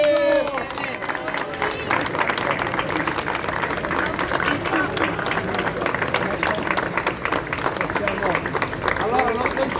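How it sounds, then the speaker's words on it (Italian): A crowd applauds steadily at a political office inauguration for Fratelli d'Italia, with dense continuous clapping mixed with cheering and voices throughout. "Un applauso!"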